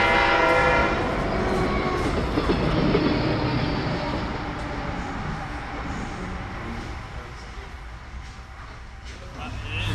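A train rumbles loudly and steadily, with a horn-like tone at the start, then the rolling noise slowly fades while voices talk faintly underneath.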